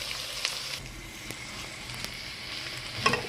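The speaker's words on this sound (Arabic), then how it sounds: "اشوح بقى الباميه والبصلايه كده مع الثومه مع بعض" Okra, onion and garlic sizzle and crackle in hot oil while being stir-fried, a steady close frying hiss with occasional small pops and stirring scrapes.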